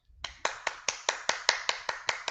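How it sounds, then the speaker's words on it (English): A single person claps hands in a quiet room, about eleven crisp, evenly spaced claps at a steady brisk tempo, close and clear with nothing else audible. "Hand clap."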